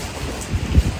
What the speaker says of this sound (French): Vive la pluie.